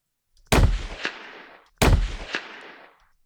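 A layered gunshot sound effect for a video game, built from low and mid layers: two loud, sharp shots about a second apart, each with a booming impact and a decaying tail.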